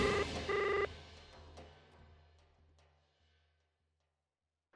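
Two quick touch-tone dialing beeps from a telephone, close and clear, followed by fading, ringing tones.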